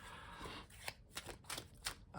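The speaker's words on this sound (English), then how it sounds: "I would obviously shuffle a lot longer than this" A deck of divination cards is shuffled by hand in a short burst of quick, crisp riffling slaps, close and alone with no talking.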